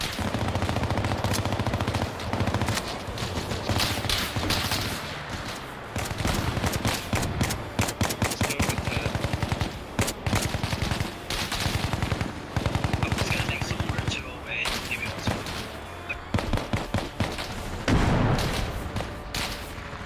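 Gunfire from the video game Bellum rattles loudly and almost without pause, with dense bursts of automatic fire, single shots and occasional heavier booms.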